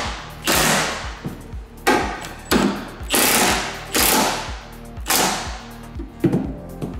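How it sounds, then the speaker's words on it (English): Impact wrench tightening the bolts of a Ford factory fifth-wheel/gooseneck hitch prep package, firing in repeated loud hammering bursts separated by short pauses, close by with no talking. "I can get them to torque spec with my impact without going over"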